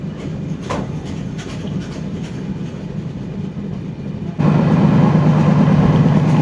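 A Kolkata to Dhaka passenger train rolls steadily through the Bangladesh countryside near Bhanga Junction, giving a loud continuous rumble that deepens into a heavier, stronger roar partway through.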